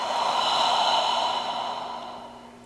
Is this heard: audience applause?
no